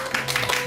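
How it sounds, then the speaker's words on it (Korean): Audience applause at a lecture event, a dense wash of many hands clapping that holds steady for under a second. "큰 박수 부탁드립니다"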